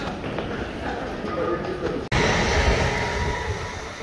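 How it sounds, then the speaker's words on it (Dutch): A passing train rumbles and clatters near a crowded station platform, steady and loud, with people talking over the noise. "Mooie trein."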